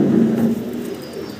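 Pigeons in a Bangladeshi breeder's collection give a low, throaty coo that hums steadily for about half a second, then fades into softer, fainter cooing. No voices are heard.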